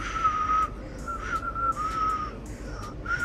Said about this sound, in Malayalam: ഞാൻ വിസിൽ മേക്ക് ചെയ്തു